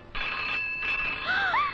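A telephone rings with a steady electronic trill that starts sharply and holds for over a second, then switches to a warbling, chirping tone near the end, loud and close with no one talking.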